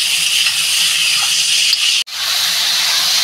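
Water poured into a hot pan of frying potatoes gives a loud, steady steaming hiss that carries on throughout, broken by one brief sharp dropout near the middle.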